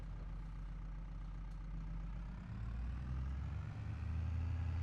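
A tractor engine in a farming simulator game, a steady low droning rumble that shifts in pitch partway through and then keeps running loud and continuous, with no talk.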